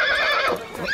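A horse being beaten in a period drama scene lets out a loud, strained neigh, one close whinny lasting about a second with no talk over it.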